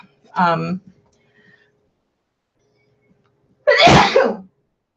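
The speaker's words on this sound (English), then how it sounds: "I had a little sneeze" Two sharp sneezes, one short and one louder and breathier a few seconds later, with near silence between them.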